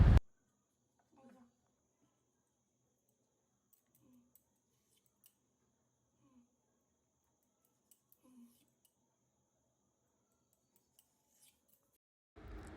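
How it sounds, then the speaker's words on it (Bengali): A knife slicing rolled whole wheat shankarpali dough into squares: four soft, evenly spaced cutting thumps against a quiet background, with brief louder noises at the very start and end. "ছুরির সাহায্যে লম্বালম্বি করে কেটে কেটে স্কোয়ার শেপ দিয়ে দেব।"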